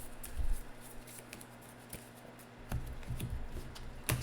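Playing cards riffled and shuffled by hand during a Marvel Legendary deck-building game: a few soft, brief papery bursts spaced a couple of seconds apart, close by and fairly quiet, with no talking.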